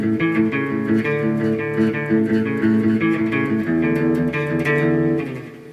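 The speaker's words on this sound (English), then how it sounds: "Sounds something like this then on the guitar." An electric guitar plays the quick intro riff of a song, a steady run of chords that stays loud and dense for several seconds before trailing off at the end, with no voices.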